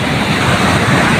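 Surf rolling onto Pandansari Beach in Bantul, Yogyakarta, where people fish from the shore, as a steady, continuous wash of breaking waves with wind noise and no voices.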